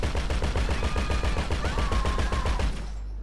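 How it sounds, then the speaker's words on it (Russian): A vehicle-mounted machine gun on an armored jeep in GTA V fires a fast, steady automatic stream of loud, close shots with a heavy low thump, running for nearly three seconds before cutting off. "вот пулемет"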